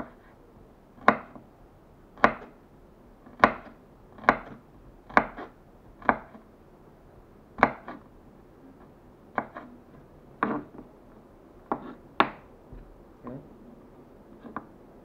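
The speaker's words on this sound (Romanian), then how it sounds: "Până împreună cu asta, tocăm ușor." Food being chopped with a knife on a board for an omelette with liver, onion and cheese, about a dozen sharp, close chops at a slow, slightly uneven pace, alone without talk.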